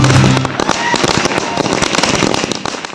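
Firecrackers burst at night on a street in Namrup during a public celebration, a dense crackling volley of sharp pops, loud and close, with a low rumble at the start.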